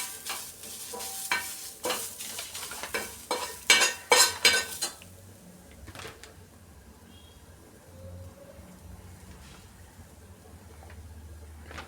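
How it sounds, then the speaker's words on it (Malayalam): Grated coconut and whole peppercorns roast in a pan over a low flame while a spoon stirs and scrapes in quick bursts at first, then the stirring fades to a faint, quiet sizzle. "നല്ലപോലെ തീ കുറച്ച് വെച്ച് നല്ലപോലെ വറുത്ത് റോസ്റ്റ് ചെയ്തെടുക്കണം"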